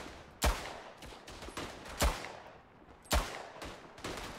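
Rifle shots in the World War I shooter Tannenberg, three sharp, loud reports spaced about a second apart, each followed by a short echoing tail with fainter distant gunfire between.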